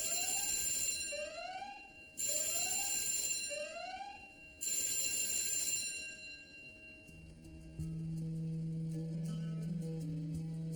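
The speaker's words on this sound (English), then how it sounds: "that's a fire alarm" A fire alarm rings in loud bursts, each ring broken by rising chirp-like tones with short gaps between, then shifts to a steady electronic ringing tone near the end, heard alone without talk.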